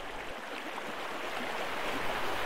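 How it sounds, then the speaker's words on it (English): A tiny creek near its headwaters tumbling along, a steady, close rushing and splashing of water, loud and continuous with no voices. "It's tiny up here near its headwaters. But it still tumbles along like a much bigger stream."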